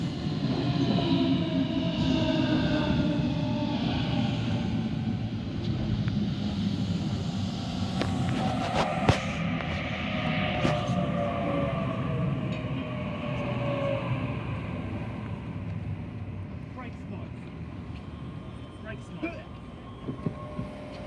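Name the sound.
Waratah A48 passenger train arriving at station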